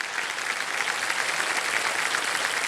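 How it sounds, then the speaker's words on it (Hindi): A television quiz show studio audience on KBC breaks into steady, dense applause after a contestant wins 80,000 rupees, the clapping continuous and even throughout with no voices above it. "तालियां बज जाए इनके लिए।"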